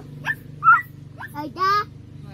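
A voice imitates a dog with a few short yapping barks, close by, over a low steady hum.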